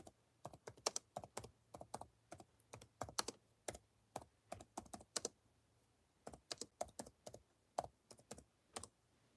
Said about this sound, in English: I'll just type it in myself